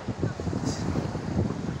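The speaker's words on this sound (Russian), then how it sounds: "Море бушует, море волнует." Rough sea waves break on the shore at Anapa under steady wind, a continuous loud wash of surf and wind buffeting across the whole short stretch.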